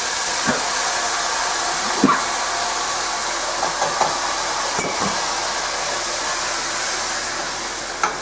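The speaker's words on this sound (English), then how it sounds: "Now I am transferring this mixture, that is cream of wheat tofu mixture, to the" Cream of wheat and tofu mixture tipped into a hot pan of tempering for rava upma, producing a steady loud sizzling hiss with a few faint clinks of utensils.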